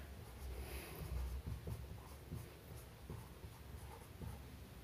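A maths formula is written out by hand, heard as faint, quiet scratching strokes in short bursts with brief pauses between them.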